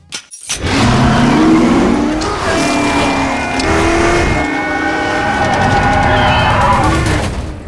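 A race car engine from the film Ford v Ferrari roars up through the gears after a brief start, loud and sustained, with rising and falling revs and a hint of tire squeal.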